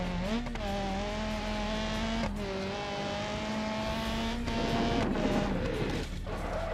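Engine of a car in BeamNG Drive revving and holding a steady tone, then dipping briefly and climbing again, loud and continuous with game crash and tire noise behind it, no talking.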